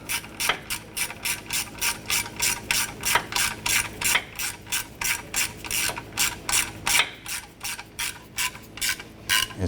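A ratchet snugging oil pan bolts on a 2008-2013 Honda Accord, with a steady series of about two dozen sharp, close clicking strokes in an even rhythm and no talk.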